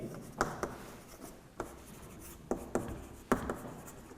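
Chalk or marker strokes on a board in a physics class, a series of short scratchy taps and rubs in uneven bursts, close and fairly quiet, with no talking over them.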